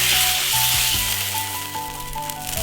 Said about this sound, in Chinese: 再来烧点油，葱姜干辣椒。